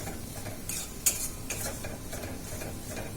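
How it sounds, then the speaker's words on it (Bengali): A thick spiced masala gravy is stirred and cooked down in a pan, with repeated spatula scrapes and strokes over a soft, steady sizzle; no one speaks. "এতে একটুখানি ঘন ঘন বেশ গ্রেভি মতো মশলাটা কষানো হয়ে গেছে।"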